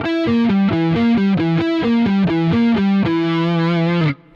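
Distorted electric guitar picking fast, evenly spaced diminished arpeggio notes in a repeating 7/8 pattern, ending on a long sustained note that cuts off abruptly.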